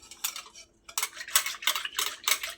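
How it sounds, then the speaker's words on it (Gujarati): Batter is whisked in a bowl to work out the lumps, a run of quick bright clinks and scrapes from the utensil against the bowl, arriving in short bursts with brief pauses between. "લમ્સ ના રહે એ રીતે બેટરને મિક્સ કરી લઈશું."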